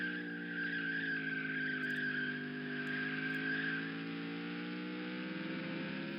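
Tires squeal loudly and steadily under a roaring car engine, a long sustained skid that fades slightly toward the end.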